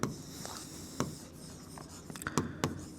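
Writing during a Class 10 trigonometry lesson, pen or marker strokes scratching a surface in short irregular bursts, close and fairly quiet, with sharper taps near the end and no speech.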